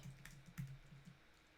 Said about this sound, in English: Typing this all out